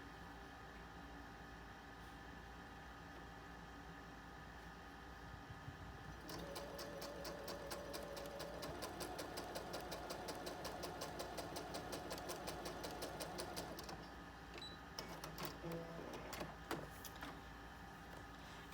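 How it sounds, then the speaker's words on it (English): A sewing machine stitches quilting cotton pieces for a small table runner, a fast, even mechanical whirr with rapid needle ticking that runs in two bursts after a quiet start, heard close with no talking. "We're stitching right sides together."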